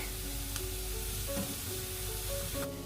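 Carrots for a Kerala sadya carrot pachadi sautéing in a pan, a steady soft sizzle with light stirring scrapes, fairly quiet and continuous with no voices.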